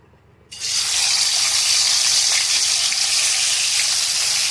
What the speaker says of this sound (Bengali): মাছটা আমি ছেড়ে দেবো মাছটাকে ভালো করে লাল করে ভেজে নেবো